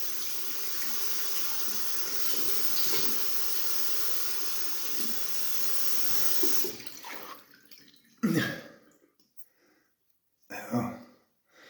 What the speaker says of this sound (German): Ich tauche mal ab und spüle mich mal kalt ab.